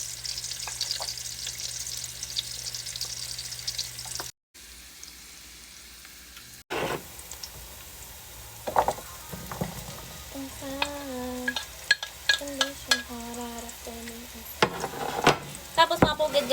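Ginger and onion frying in hot oil give a steady bright sizzle, with a pause, clinks of a utensil against the pan and some faint speech in the background.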